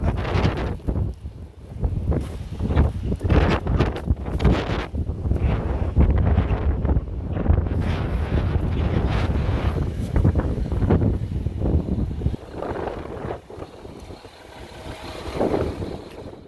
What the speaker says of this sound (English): The wind's always crazy over there.